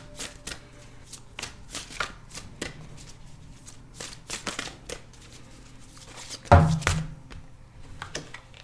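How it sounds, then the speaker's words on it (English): Tarot cards mixed by hand close up, a steady series of crisp papery shuffles and taps, with one louder thump near the end, no talking. "we didn't see the cards anyway, so it doesn't matter, but we'll mix them around"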